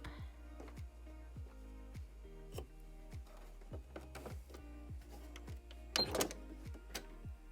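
A sewing machine stitches fabric for a dog bandana, quiet rhythmic mechanical pulses repeating about twice a second, with a brief rustle of the cloth being handled near the end.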